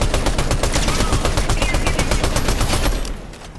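Rapid gunfire from a shooter video game rattles off in a dense, evenly spaced burst of sharp shots, loud and close, tapering off near the end.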